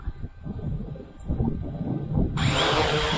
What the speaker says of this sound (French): Alors, on déverrouille les moteurs.